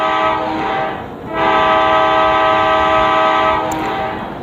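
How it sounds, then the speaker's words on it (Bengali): A train blares a long, loud horn that breaks briefly and resumes, sounding over the steady rumble of the train moving on its rails. "এই যে গাইস ট্রেনে চড়ে কিন্তু যাচ্ছি"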